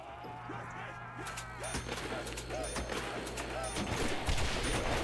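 Rapid MP40 submachine gun fire in Call of Duty Zombies on the Pirate Ship custom map, dense bursts of shots layered over game noise and music, with a player talking throughout.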